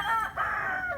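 A roughly standard-size rooster lets out a brief, close crow in two quick rising parts, clear and unaccompanied by talk.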